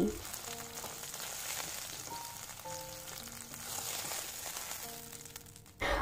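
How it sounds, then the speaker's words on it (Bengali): Continuous crackling hiss of rohu fish frying in hot oil until reddened, fairly close, with faint tonal sounds in the background and a brief clatter at the end. "উল্টে পাল্টে মাছগুলোকে লাল করে ভেজে নিয়েছি"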